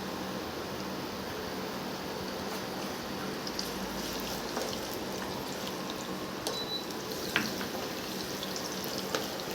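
Ginger, garlic and green chilli fry in hot oil as the base for chilli chicken, giving a steady, close sizzle and crackle throughout with a few small pops and no talking.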